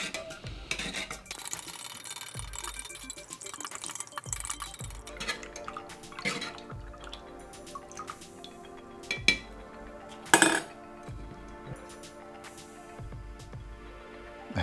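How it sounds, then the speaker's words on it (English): A spoon stirs apple isotonic drink powder into water from a ration pack, giving scattered light clinks against the container. One bright ringing tap stands out near the end, all faint and close with no talk. "And give it a stir."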